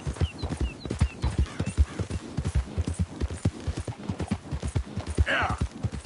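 Horse hooves clip-clopping at a galloping pace in the Red Dead Redemption video game, a steady rapid rhythm of close, loud beats with a brief whinny near the end and a voice urging the horse on.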